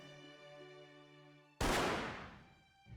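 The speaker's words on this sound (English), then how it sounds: "Damn, a gunshot went off." A single gunshot in the video game Charlemagne's Chivalrous Montjoie cracks out sharply over a quiet sustained musical tone, then decays over about a second.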